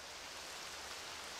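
Rain falls in Zelda: Twilight Princess HD, a faint, steady hiss of soft in-game rainfall with no other sounds and no talking.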